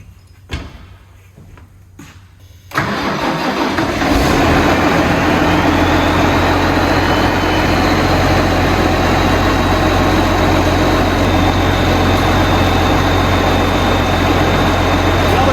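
A farm tractor engine cranks and starts in snowy winter conditions, then settles into a loud steady idle with a deep low rumble and a rising turbo whine, heard close after a quiet opening.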